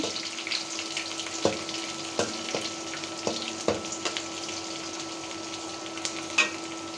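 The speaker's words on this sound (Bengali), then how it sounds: "পেঁয়াজ রসুন ভাজা হয়ে গেছে" Onion and garlic fry in hot oil in a pan in a village home kitchen, a continuous close sizzle broken by sharp knocks and scrapes of stirring, with no talk.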